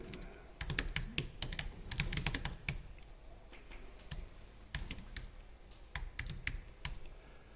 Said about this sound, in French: Donc vous allez taper un titre, vous tapez ce que vous voulez.